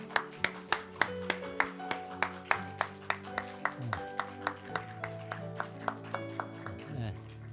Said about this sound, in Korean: 여러분 박수 한번 할까요?